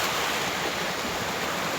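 Strong ocean waves surge steadily along the Dammam Corniche seafront, a continuous broadband wash with wind noise and no distinct breaks, loud and close throughout.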